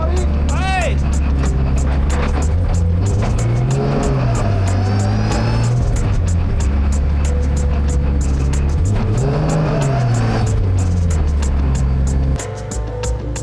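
A drift race car on the narrow mountain touge road at Calmont, driven among normal road traffic, revs hard and rises and falls in pitch through several bursts, loud and close, with tyre squeal and a voice talking over it.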